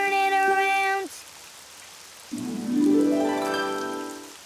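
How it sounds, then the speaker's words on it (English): Rain in the Daniel Tiger video game falls as a soft, continuous hiss beneath bright melodic game tones, with a sustained chord that cuts off and a rising, swooping tone that follows. "Oh, it's raining outside."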